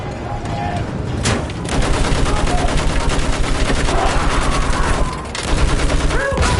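Rapid bursts of gunfire in Battlefield 1, a World War One shooter, with machine-gun fire running steadily through most of the clip, loud and close, and a brief lull near the start and another near the end.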